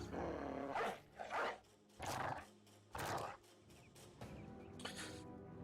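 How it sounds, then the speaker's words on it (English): A war dog let loose in the Battle Brothers game, giving several short growls and barks in bursts, fairly close and moderately loud, separated by quieter gaps. "You release a dog."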